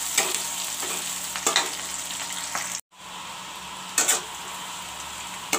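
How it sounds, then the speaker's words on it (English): Sliced onions and three bay leaves fry in a pan toward golden brown, giving a steady close hiss of sizzling oil. A few stirring scrapes break through, and the sound cuts off briefly midway. No one speaks. "Let the onions fry golden brown."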